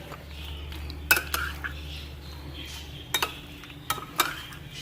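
Beetroot being added to macaroni salad in a bowl, with a few sharp clinks of a utensil against the bowl and soft stirring scrapes, close and fairly quiet over a low hum.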